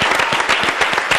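A brief, brisk burst of crowd applause, closely packed claps at full volume with no voices over them.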